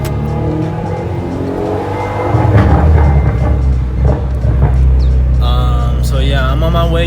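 Kia Forte Koup SX accelerating hard through first and second gear, the engine note rising loudly and steadily, with a brief shift break and a higher whining tone near the end; no talking.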